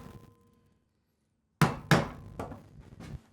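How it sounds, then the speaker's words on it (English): A mallet drives a chisel into wood while a housing joint is cut by hand: after a short quiet spell come four sharp, close knocks, the first two heavier, spaced unevenly. "Then we just sink the chisel in."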